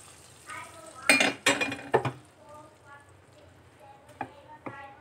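A spoon mixes a tempering into dhal in a pot, with a burst of loud scraping clanks early on, then a few sharp knocks later, while a voice speaks softly between them.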